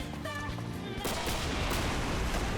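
Gunfire and an explosion ring out in the video game XCOM 2, with dense, loud blasts filling the whole moment, with no pause and no talk over them.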